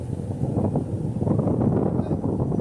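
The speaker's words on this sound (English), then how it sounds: "Whoa, it's really windy." Wind blows on a cloudy day near traffic lights at Affton High School, a continuous low buffeting rumble against the microphone that stays fairly loud throughout.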